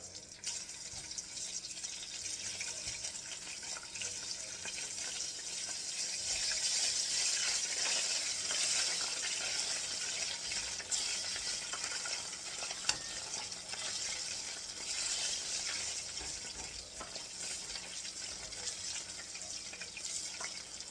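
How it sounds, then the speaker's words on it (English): Brown sugar, star anise and fresh ginger slices cooking in a pot for a Korean-style chicken stew give a steady, close sizzle and crackle that holds for the whole stretch, swelling a little partway through, with no talking. "So I've been cooking the brown sugar, the star anise,"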